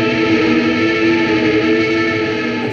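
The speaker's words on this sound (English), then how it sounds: "It's a non-linear reverb." An electric guitar played through a Fender Mustang GT amp on a non-linear reverb preset gives a dense, loud, distorted wash of sustained sound with shimmering chorus-like swirl and no clear attacks, steady throughout.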